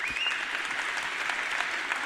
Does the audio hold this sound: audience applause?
yes